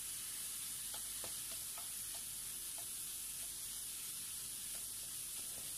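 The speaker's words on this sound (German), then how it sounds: "Wird so weiter gebraten." Ginger and lime leaves sizzle and fry with minced meat in a pan for a Thai red curry bean dish, a steady close hiss broken by soft scrapes and stirring taps, with no talking.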